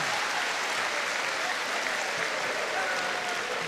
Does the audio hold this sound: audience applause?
yes